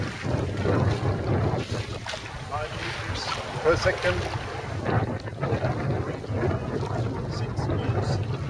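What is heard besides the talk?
small sailboat moving through water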